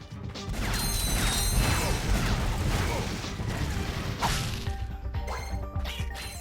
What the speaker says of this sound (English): So Ratchet is going to break a lot more crates.